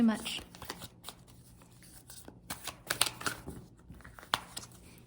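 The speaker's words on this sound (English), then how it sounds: "This is really hard to shuffle because these cards are a little bit bigger than the normal deck of cards." A deck of oversized cards being shuffled in repeated riffles and snaps, close up, with crisp flicks scattered throughout.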